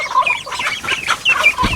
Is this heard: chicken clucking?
yes